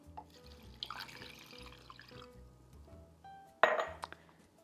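Filtered water poured into a cup while making an oil-free vegan French salad dressing: soft clinks of glassware and dishes, then a short, close, louder splashing pour near the end.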